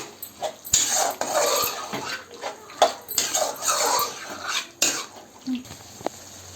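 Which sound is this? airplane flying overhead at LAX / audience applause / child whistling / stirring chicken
stirring chicken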